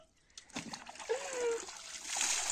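Cold water splashes and sloshes during outdoor bathing, with a few close bursts of splashing and a brief whistling tone partway through, over a low steady background.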